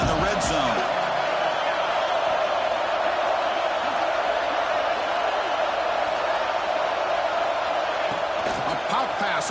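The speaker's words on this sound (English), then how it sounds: "the crowd coming to life here, trying to help this defense down in the red zone" A crowd at a Texas versus UCLA college football game roars steadily in the stadium, a dense, continuous wash of cheering and noise heard from a distance, with a commentator talking over it.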